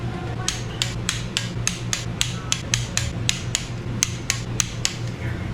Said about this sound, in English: We are now going to torque the rod bolts to 55 foot-pounds, so we're going to hit them at 25